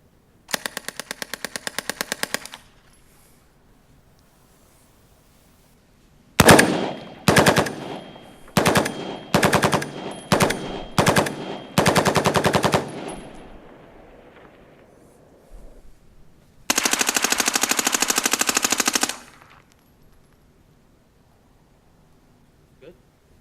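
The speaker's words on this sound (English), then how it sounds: "That weapon just shot 30 rounds." Close, loud machine gun bursts: a rapid burst, then a run of short separate bursts and a longer sustained volley, and a final steady burst of rapid gunshots recorded as sound-effect assets, with quiet gaps between.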